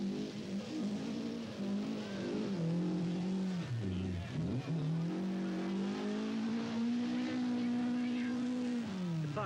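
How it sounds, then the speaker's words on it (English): A 1980 rally car engine drones and revs through a night forest stage of the Castrol International Rally, a continuous strained roar that dips briefly while shifting and then climbs steadily, heard at moderate distance. "fueled by the roar of engines"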